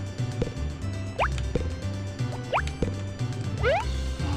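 Crops are watered in a Harvest Moon game, with repeated drippy, splashing water pours and rising liquid plops arriving in short bursts over a looping background melody.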